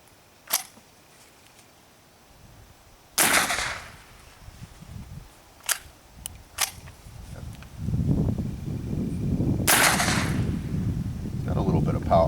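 A Ruger 10/22 rifle fires birdshot at a can outdoors, giving a handful of sharp cracks spaced several seconds apart over low rumbling background noise.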